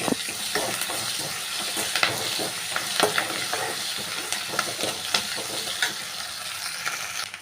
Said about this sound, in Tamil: வெங்காயம் எல்லாம் பாருங்கள் நல்லா வதங்கிருச்சுங்க.